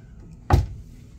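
The fridge door in a standard balcony stateroom aboard the Allure of the Seas cruise ship pulls open with a single soft, thudding pop, close and brief against a quiet room.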